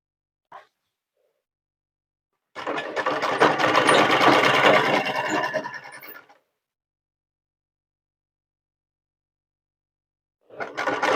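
A sewing machine runs in one fast stitching burst of about four seconds while a nurse's uniform is sewn, then goes quiet before starting again at the end, with no talk.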